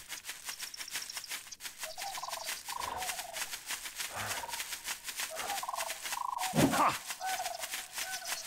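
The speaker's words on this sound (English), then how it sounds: "It's a fox." A fox calls in the video game Night of the Dead. Several short, warbling, gobble-like cries repeat across the span over a faint rhythmic background, with one louder, harsher cry near the end.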